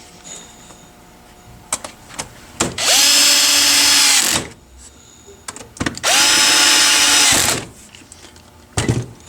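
A cordless power drill drives screws into the end plate of a fluorescent light fixture with a 2- or 3-bulb electronic ballast, making two loud sustained whirring runs of about 1.5 seconds each, with clicks and handling knocks between them.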